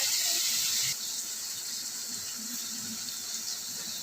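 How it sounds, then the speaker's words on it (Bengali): Water pours steadily into a pan of pointed gourd and poppy seed curry, a continuous close hiss and splash that eases slightly in level after the first second and carries on to the end. "এবার আমি জল দিয়ে দিচ্ছি"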